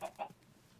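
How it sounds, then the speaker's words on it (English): Minecraft chickens give two quick, faint clucks close together, followed by quiet. "Man, there's so many chickens down there."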